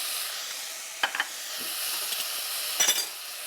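Ginger paste being stirred into mushrooms in a hot pan, with a steady frying sizzle and hiss, broken by a few brief scraping clinks of the utensil against the pan.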